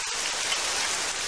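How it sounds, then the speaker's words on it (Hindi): Steady rain hisses down, a dense, even patter of drops on a surface with no voices. "बारिश? ये तो बहुत कम है।"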